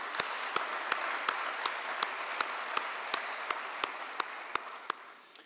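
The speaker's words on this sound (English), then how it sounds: "And I want to give a big round of applause to our administrators, teachers, staff, and students for their exceptional achievement." Audience applause at a county schools state of education address, a steady wash of clapping from a large crowd with one loud, evenly spaced nearby clapper cutting through, fading slightly at the end.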